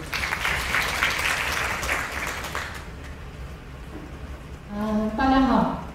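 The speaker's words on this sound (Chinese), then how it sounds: "那下一位请大家热烈掌声欢迎雀玲" An indoor audience at a youth working-holiday information session breaks into warm applause for the next speaker, a dense clapping wash that fades out before a voice begins talking over the tail.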